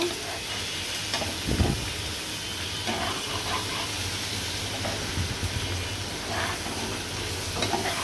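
Prawns dusted with turmeric sizzle steadily in hot oil in a pan, a constant close frying hiss broken by a few soft stirring scrapes and bumps.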